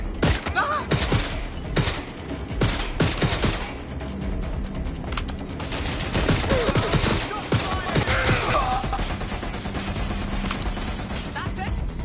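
Gunfire in the video game Watch Dogs: Legion, loud rapid bursts of shots and volleys crackling throughout, with voices talking over the shooting.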